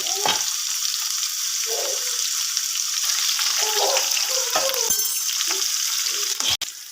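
Ginger, garlic, cumin, whole spices and chilies sizzle in hot oil for a Marathi pulao tempering, a constant close hiss broken by a few stirring scrapes.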